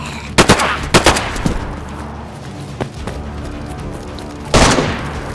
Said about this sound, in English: Yeah, I just shot him